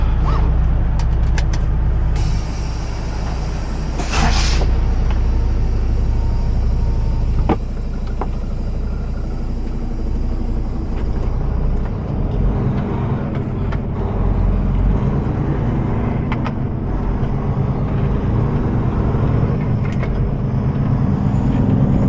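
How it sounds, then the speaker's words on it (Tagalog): Trucks rolling into a mandatory brake check area, a steady low engine rumble and idling drone close by, with brief high squeals and hisses early on, then continuous traffic noise. "Ayan o, lahat ng truck pumasok talaga."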